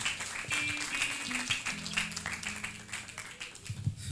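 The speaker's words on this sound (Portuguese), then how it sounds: "Aplauda bem forte ao nome do Senhor Jesus" A church congregation in Rocinha applauds in praise: sustained clapping from many hands, moderately distant, with a sustained musical tone underneath.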